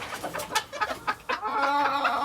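A gamefowl hen, a bantam crossed with gray stock, gives a run of short, close clucks, then a longer drawn-out cackling call.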